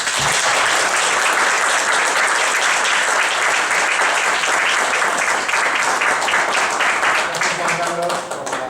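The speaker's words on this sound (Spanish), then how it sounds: "recibirlo con un caluroso aplauso" Sustained applause from a lecture audience welcoming a speaker to a science and philosophy talk, dense steady clapping throughout that thins out near the end.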